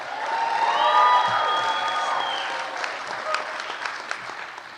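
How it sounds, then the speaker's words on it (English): Applause at an arts awards ceremony rises to a full round of clapping, peaks early and slowly fades, with scattered whoops and voices audible in the crowd. "Let's once again give a huge round of applause to Track House."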